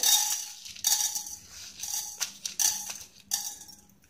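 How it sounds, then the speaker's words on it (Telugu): Chana dal and coriander seeds dry roasting in a pan, heard as bursts of bright rattling and metallic scraping as a spatula tosses the dry seeds, quiet between strokes, no voices. "మనం ముందుగా పచ్చిశనగపప్పు ధనియాలు వేసుకుని వేయించుకుందాము।"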